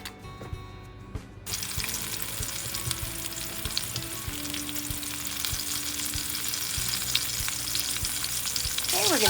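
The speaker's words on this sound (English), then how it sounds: "I have my skillet getting nice and hot." Chicken piccata pieces sizzle and fry in a hot skillet, a steady loud crackling hiss that starts abruptly after a brief quieter moment and continues unbroken, with occasional clinks from a utensil.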